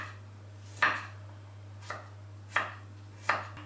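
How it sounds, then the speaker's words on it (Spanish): Garlic being finely chopped with a knife on a board, with four distinct, spaced knife strikes heard up close against a quiet background with a low steady hum. "vamos a picar muy menudito el ajo"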